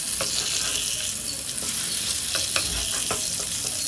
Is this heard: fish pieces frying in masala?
yes